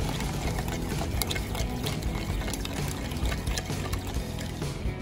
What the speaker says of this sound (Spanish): Se le pone un poco más de aceite.